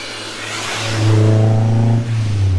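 A Honda S2000 with a titanium valved exhaust revs up from idle into a deep, rumbling exhaust roar, holds briefly, then dips and settles back.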